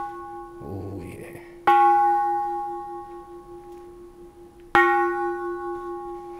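A Japanese bronze Buddhist temple bell is struck twice, each hit giving a loud, clear ring that slowly decays into a long, shimmering hum. A brief voice-like sound comes just before the first strike.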